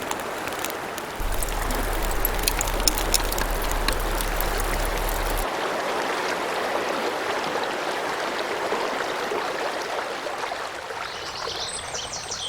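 A river flows over gravel in deciduous autumn woodland, a steady close rushing and babbling wash with no voices.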